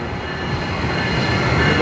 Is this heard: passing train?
yes